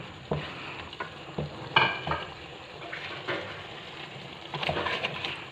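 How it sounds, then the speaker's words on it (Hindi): Beef shinwari karahi cooking in a wok, with a close steady sizzle broken by several distinct stirring and scraping strokes of a utensil against the pan. "बीफ शिनवारी कढ़ाई तैयार हो रही है"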